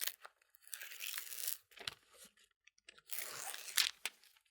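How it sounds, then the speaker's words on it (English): Paper backing being peeled off a fabric appliqué piece during a quilting project, giving crisp tearing and crinkling bursts in two main bouts with short quiet gaps, close to the microphone. "Notice I give a nice confident crease so the paper releases."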